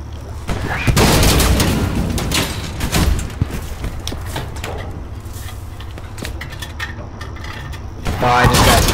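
Gunfire in the video game Foy: Warfare, loud dense bursts and booms, heaviest in the first few seconds and again at the end, with people talking over the shooting.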